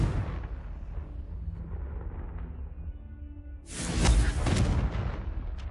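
The Confringo fire spell in Hogwarts Legacy sets off a booming explosion, a low rumbling roar that builds partway through and swells into a bright, crackling fiery burst before fading.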